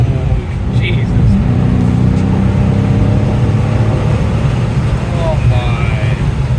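A Dodge Challenger engine revs hard from the driver's seat with the roof open, a loud deep rumble under wind noise with a brief rev swell, and someone talks over it.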